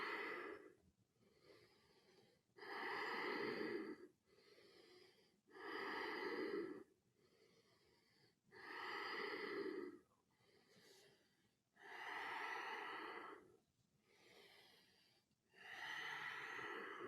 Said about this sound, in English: Long, deep breathing through the nose.